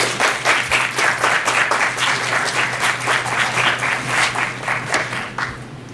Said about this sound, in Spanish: Un aplauso para el maestro, por favor.